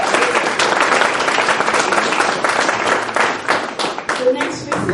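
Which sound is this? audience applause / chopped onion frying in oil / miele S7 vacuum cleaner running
audience applause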